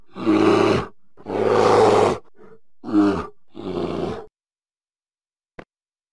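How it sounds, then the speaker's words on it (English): A bear lets out a series of four deep, rough roars in separate bursts with short pauses, loud and close, then silence and a faint click. "Bear."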